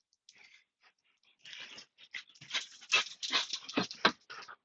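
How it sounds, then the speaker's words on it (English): A dog close by whimpers and pants in quick, uneven bursts of breathy whines that grow busier and louder after a quiet start. "because I have to take my dog"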